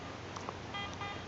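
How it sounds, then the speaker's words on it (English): A Garrett AT Gold metal detector sweeps at a WW2 relic-hunting site, giving a few short electronic beeps and warbling tones in the background over a faint steady hiss. "You can hear Colleen beeping away in the AT Gold there in the background."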